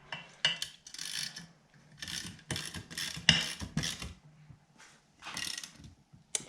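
Ratchet wrench tightening the winch mount bolts on a Honda Pioneer, rapid clicking pawl bursts in several close, uneven strokes separated by brief pauses.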